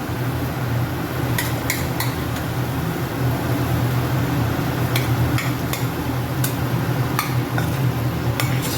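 Spinach khichdi is stirred and mixed in a pot, a continuous thick churning with scattered light clinks of the spoon against the metal, close and fairly loud with no one speaking.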